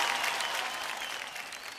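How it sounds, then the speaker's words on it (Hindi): A large audience at a televised awards show bursts into loud, dense applause that fades slightly over a couple of seconds. "एक बार जोरदार तालियां हो जाए प्लीज टेक अ सीट."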